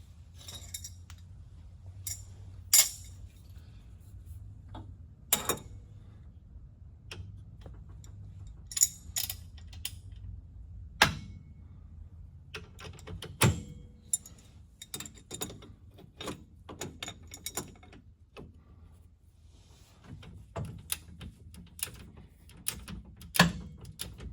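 Repeated sharp metallic clicks from a ratchet or torque wrench tightening the tie rod hardware on a Polaris RZR Pro R side-by-side, scattered clicks and ticks over a low steady hum, with no voices.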